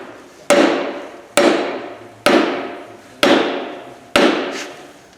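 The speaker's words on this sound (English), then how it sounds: "Oh, okay, then keep hammering." Five loud, evenly spaced hammer blows on metal ring out close by during line bore assembly at a fabrication shop, each strike decaying before the next.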